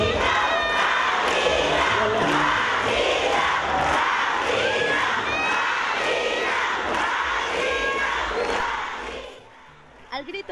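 A large crowd at a Mother's Day celebration in Nezahualcóyotl chants and shouts for a singer from Veracruz. The roar is loud and continuous, with whistles cutting through, then drops off sharply near the end.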